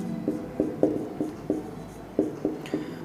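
Pen or chalk strokes writing out a linear equation in two variables, a string of short scratchy taps in an irregular rhythm, close and fairly soft, with no talking.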